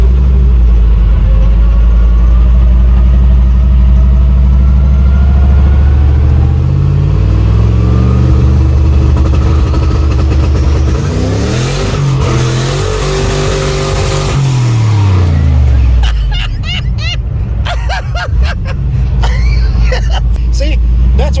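A carbureted car engine revs hard and loud against a 2-step rev limiter set near 3,000 RPM, with rising and falling engine tones close by while people talk over it.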